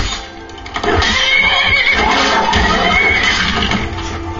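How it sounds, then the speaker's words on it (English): A horse in Skyrim lets out a loud, drawn-out whinny lasting several seconds, close and prominent, with faint hoof sounds underneath and no speech. "You are a brave horsey."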